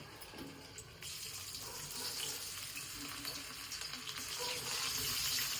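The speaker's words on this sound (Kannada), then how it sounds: "ಈ ರೆಡಿ ಮಾಡಿಕ್ಕಿರೋ ಗೋಬಿನ ಇವಾಗ ಒಂದೊಂದೇ ಹಾಕ್ತೀನಿ ಎಣ್ಣೆ ಚೆನ್ನಾಗಿ ಕಾಯ್ದಿದೆ" Cauliflower pieces for Gobi Manchurian drop one by one into hot oil and fry with a close, crackling sizzle that swells and grows busier as more pieces go in, with no voices over it.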